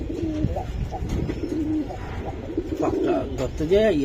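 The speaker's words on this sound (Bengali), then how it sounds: "আমি জানি না কার এত শখের কবুতর" Pet pigeons coo close by in a series of soft, throaty rolling calls, with background chatter and low ambient noise throughout.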